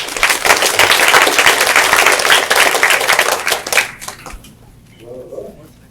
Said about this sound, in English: Can we give our speaker a round of applause?